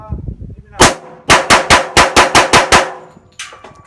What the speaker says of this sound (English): A little bit of rapid fire.